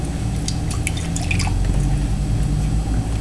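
Water being poured and dripping into a quarter-cup measure while preparing a carrot salad, small trickles and drips over a steady low hum, close by, with no talk.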